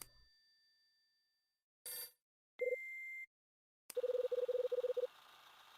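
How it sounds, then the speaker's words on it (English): A telephone in the video game Last Window rings out as electronic tones: a brief beep, a steady held tone, then a rapid trilling ring burst, all clear and isolated against near silence. "this is a bad time for the phone to ring"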